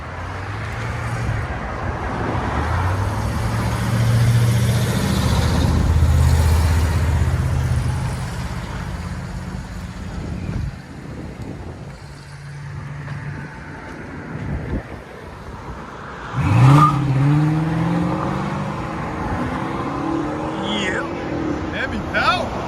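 A 2007 Chrysler 300S with a 5.7-liter HEMI V8 and Flowmaster Super 10 exhaust rumbles loudly and steadily up close, with a deep low-pitched drone, brief dips and a sharp rev swell near the end, mixed with wind noise and people talking.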